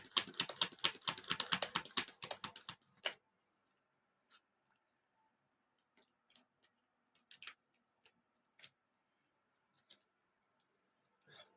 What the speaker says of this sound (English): Those heart-shaped cards are so hard to shuffle